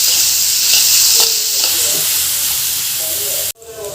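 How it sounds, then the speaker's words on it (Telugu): Bottle gourd pieces fry in hot oil with a loud, steady sizzle, broken by a few scraping stirs, before the sound cuts off abruptly near the end. "ఇవి వేయించుకోవాలన్నమాట సొరకాయ ముక్కలు"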